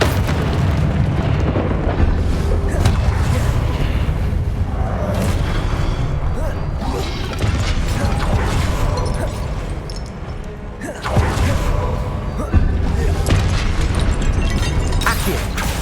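Confringo spell blasts in the Hogwarts Legacy video game burst out repeatedly over a dense, loud combat soundscape, with booming impacts and crackling bursts recurring throughout and a brief lull before another heavy blast.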